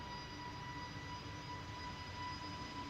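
EasyJet airliner at Amsterdam Schiphol airport on a windy day, a constant distant jet-engine rumble with a faint whining tone, fairly quiet and unbroken over a few seconds.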